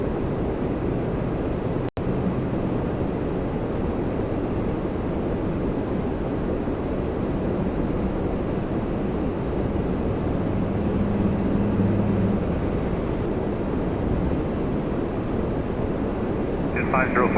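A plane takes off from the runway at Toronto Pearson airport, its broad steady engine roar constant and moderately distant throughout, with wind noise on the microphone and voices over it.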